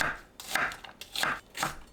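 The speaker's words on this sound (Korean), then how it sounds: "양파를 너무 곱지 않게 채 썰어줍니다" A knife cuts through onion on a board in four quick, evenly spaced strokes, each a short crisp swish and thud.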